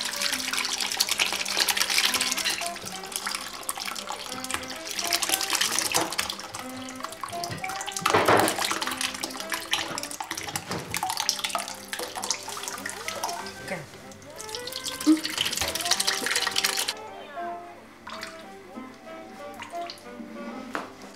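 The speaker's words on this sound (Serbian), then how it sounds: "sad ćemo da sipamo to što je uskislo" Curdled soy milk for homemade tofu is poured into gauze, giving a long, splashing liquid pour that shifts in intensity and tapers off near the end, with voices talking over it.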